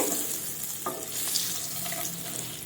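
Eggs fry in a pan in a home kitchen, a soft continuous sizzling hiss with faint crackles and a small clatter at the end.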